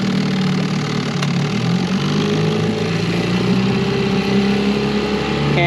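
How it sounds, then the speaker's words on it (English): An old Johnson two-stroke outboard motor runs steadily, a loud, close, continuous buzzing drone with no speech over it. "anybody makes a motor better than them old Johnson 2 cycles"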